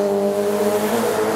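An old, unreliable motorcycle engine revs close by in Warsaw with a steady, droning buzz that holds throughout the short moment, with no speech over it.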